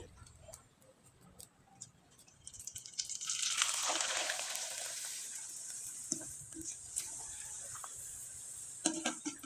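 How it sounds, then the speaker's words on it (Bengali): Tomato pitha frying in oil gives a soft sizzle that swells partway through and then settles, with scattered light ticks and pops over a quiet background. "একইভাবে আমি আরেকটা পিঠা ভেজে আপনাদের দেখিয়ে দিচ্ছি"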